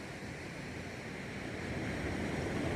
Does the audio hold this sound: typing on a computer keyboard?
no